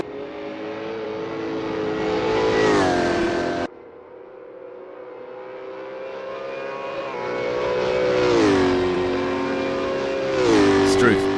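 V8 Supercar engines racing at Pukekohe Park in Assetto Corsa, revving up and shifting through gears in rising and falling sweeps, loud and near, with a commentator talking over the engine noise.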